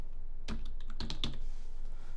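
A handful of sharp computer keyboard keystrokes, close and distinct, spaced unevenly over about two seconds against a faint background hiss, with no voices.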